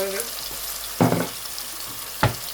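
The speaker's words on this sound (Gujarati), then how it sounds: "થોડીક એવી મેથી એડ કરવાની છે આપણે તેલમાં." Fenugreek seeds drop into hot oil in a home kitchen and fizz with a soft background sizzle, broken by two brief louder bursts of crackling about a second apart.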